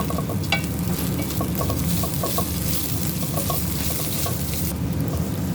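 Rice with oil and salt stirred in a pot, a steady close sizzle broken by quick repeated scraping strokes of the spoon throughout.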